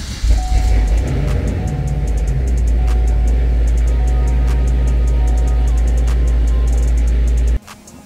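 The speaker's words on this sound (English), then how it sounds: "And here goes first fire up." A tuned Cadillac CTS-V2 engine cranks and fires up for the first time, settling into a loud, deep, steady idle close by before cutting off abruptly near the end.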